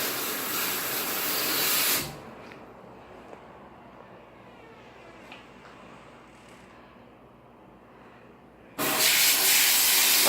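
A carpet cleaning machine nozzle sprays in a loud, steady hiss that cuts off abruptly, leaves a quiet stretch with faint clicks, then returns just as loud near the end.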